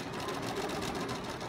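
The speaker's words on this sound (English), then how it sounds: "Sew along this side." A sewing machine stitches hexagons for machine English paper piecing, running at a fast, even hum throughout.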